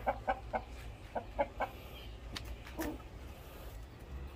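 Several chickens on a farm cluck in a short rhythmic series of close calls, then a couple of scattered clucks over faint background noise.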